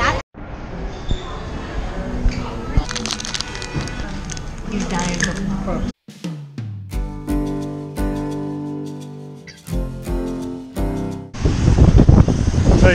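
Strong wind by the sea buffets the microphone in loud, rough gusts with surf-like rushing, broken by a sudden cut and some clattering, and a person talks over it.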